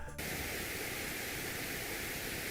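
Pink noise played as a sleep sound, a steady, soft broadband hiss that fills the whole clip at an even level, with no voices over it.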